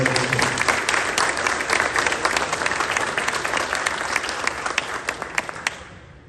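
A crowd at a Laredo ISD event in Texas gives sustained applause for the district's bus drivers, steady and full at first, then thinning into scattered individual claps before fading out.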